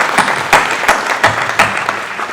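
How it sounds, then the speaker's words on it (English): An audience at an aviation museum event gives brief applause for the LAX CEO's speech. The clapping comes in loud, fairly regular bursts that last a couple of seconds. "okay, you can clap for that"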